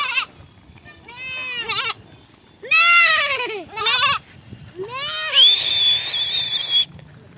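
Goats bleat repeatedly as they are herded across grass, several rising calls spaced through the scene, close and loud, with a sharp human whistle near the end and a little background noise.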